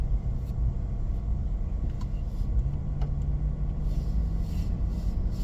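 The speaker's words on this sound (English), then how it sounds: "I'm pulling into the parking lot for Lowe's." A car idling and rolling slowly into a Lowe's store parking lot, a steady low engine rumble heard from inside the vehicle, with faint clicks and light rattles over the continuous drone.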